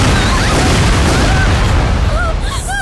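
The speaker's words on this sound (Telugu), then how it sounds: "రెండిట్లో ఏది బాగా పేలింది?" A car blows up in a Telugu action film scene, a loud sustained boom with rumbling debris filling the whole stretch, music and effects layered over it and brief voices near the end.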